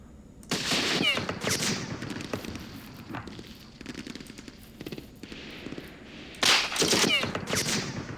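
Machine gun fire in the Campaign Series Middle East war game: rapid rattling bursts of gunfire, loud and sharp, with quieter crackling shots between two heavier volleys.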